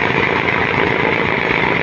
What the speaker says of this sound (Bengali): ইঞ্জিনের গতি বাড়িয়ে দিচ্ছে ওরাট।